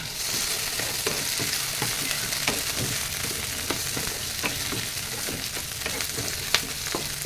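Sliced tomatoes sauté in a pan for chicken nilaga, giving a steady, close sizzle throughout with scattered light clicks and scrapes of stirring.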